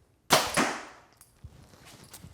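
Arrow shot from a bow during arrow tuning, striking a paper or foam target: a sharp loud impact with a quick second thud, then fainter scattered clicks and a small knock as it settles.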